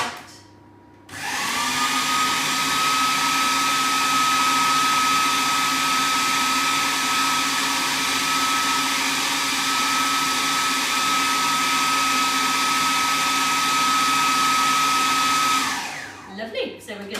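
A food processor whizzes Easter cookery ingredients in one steady, loud, continuous burst lasting about fifteen seconds, starting abruptly and then winding down at the end with no talking over it.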